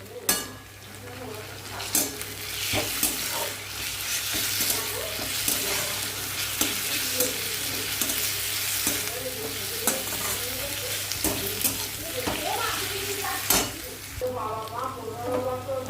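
Bay leaf and dried red chilli crackling in oil as onion is fried for vegetable khichuri, loud continuous sizzling with frequent utensil scrapes and clinks against the pan, a voice briefly audible underneath.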